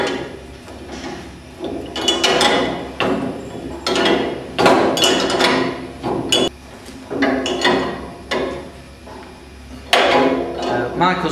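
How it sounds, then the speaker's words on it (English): Spanner clanks and clicks against a metal nut being tightened on a threaded adjuster, sharp metallic knocks and scrapes repeating in irregular bursts, close and fairly loud. "we're going to tighten up the bigger nut till it's the correct height"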